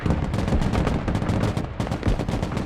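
Rapid, loud bursts of automatic gunfire rattle continuously in a Broken Arrow battle, with overlapping shots from close range and no talking.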